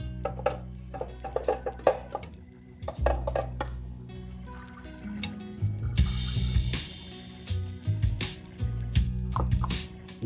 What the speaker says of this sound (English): So is washing rice before cooking it actually necessary?